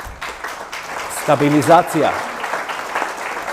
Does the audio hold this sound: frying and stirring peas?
no